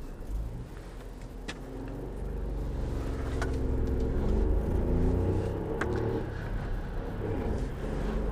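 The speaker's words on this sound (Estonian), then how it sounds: "Meie praegune auto on komplekteeritud selle sama Fordi 3-silindrilise 1-liitrise töömahuga EcoBoost turbomootoriga." A Ford Transit Connect van with a 1.0-litre three-cylinder EcoBoost turbo engine drives along the road, giving a low, steady engine hum and road rumble that swells slightly midway, with a few faint clicks heard from inside the cabin.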